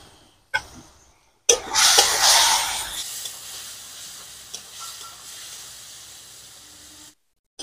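Spice paste with chopped tomato and water frying in a pan for fish curry, a sudden burst of loud hissing sizzle that settles into a quieter bubbling fry, with a few scrapes of stirring.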